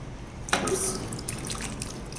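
Cocktail being poured into a glass, heard as a short, close liquid trickle that begins suddenly and runs for under two seconds before tapering off.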